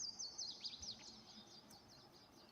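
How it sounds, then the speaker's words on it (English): Birds chirp outdoors in a quick series of high, faint twittering calls over quiet background, with no talk. "Are those birds too loud?"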